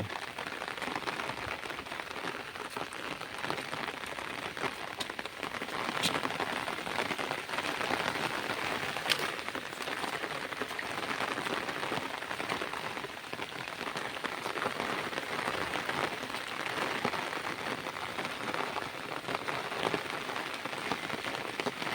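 Steady moderate rain pattering on grass and sugarcane, a continuous even hiss of drops with no talking throughout.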